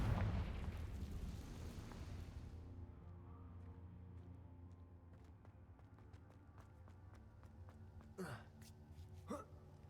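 A Confringo fire spell blasts off in Hogwarts Legacy, a heavy booming burst that rumbles and fades over a few seconds, followed by quieter game ambience with faint clicks and two brief whooshing sweeps near the end.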